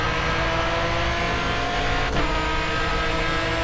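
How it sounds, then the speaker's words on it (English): Race car engines drone in the racing video game Grid Autosport, a steady loud whine of several motors during a lap, with one car briefly sweeping past midway. "part of a lap here so you can see the cars in action and hear the sound of all these motors"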